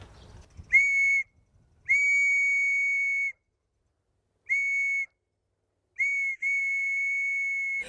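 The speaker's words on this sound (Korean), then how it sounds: "진짜 아무나 못 만드는 수제 호루라기." A handmade whistle gives clear, shrill blasts in a sparse pattern: a short toot, a long sustained blow, another short one, then a brief double burst running into a long final note, close and alone.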